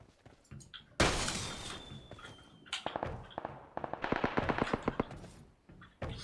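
Gunfire in a battle royale video game: a sharp close shot, then rapid bursts of automatic fire and scattered single shots, loud and punchy against a quieter background.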